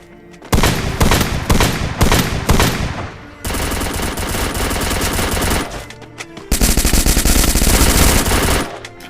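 Loud, close machine gun fire in the Free Fire video game comes in three long rapid bursts separated by brief pauses.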